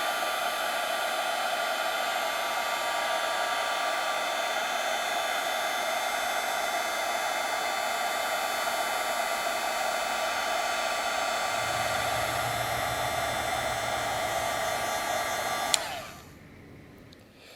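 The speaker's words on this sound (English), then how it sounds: "And now I'm going to hit this with my heat tool." Heat tool blowing hot air over embossing powder on card-stock butterflies, a steady loud whirring roar that holds for about fifteen seconds and then cuts off abruptly near the end.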